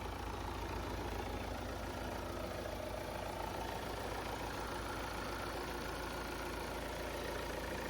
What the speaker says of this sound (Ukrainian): Мотор, як ви можете почути, як часи працює.